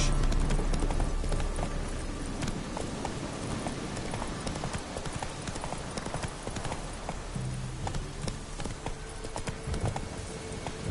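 Roach the horse gallops in The Witcher 3, hooves clip-clopping in a steady rapid rhythm, close and continuous over a busy game background.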